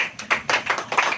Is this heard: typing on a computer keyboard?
no